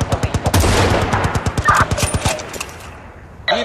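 Rapid bursts of automatic gunfire in the video game Battlefield Bad Company 2, loud and close, firing in a steady stuttering rhythm for several seconds before thinning out, with a sharper shot near the end.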